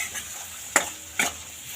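Vegetables stirred in hot oil for masala Maggi, with a soft steady sizzle and two sharp utensil scrapes against the pan.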